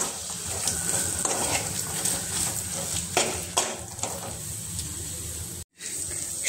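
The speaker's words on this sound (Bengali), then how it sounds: "এবার এগুলোকে সব একসাথে ভালো করে নাড়িয়ে চাড়িয়ে ভালো করে মিশিয়ে নেব।" A spoon stirs and mixes raw mango chop filling in a pan, with steady sizzling and irregular scraping and clinking strokes over a continuous hiss, close and moderately loud, and no one speaking.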